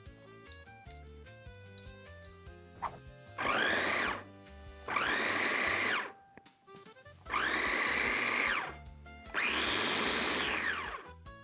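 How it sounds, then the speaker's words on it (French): A kitchen blender purees bell peppers with pre-chopped garlic in four loud whirring bursts of about one to two seconds each, separated by short pauses, with soft background music throughout. "on va commencer par mixer les poivrons avec l'ail qui est déjà coupé"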